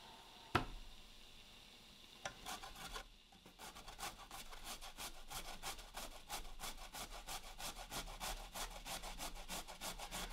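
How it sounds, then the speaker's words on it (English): Steady rhythmic scraping of ingredients against a hand grater while preparing dough for Balinese donuts, close and continuous, with quick repeated strokes after an initial pause. "I'm going to grate a little bit more."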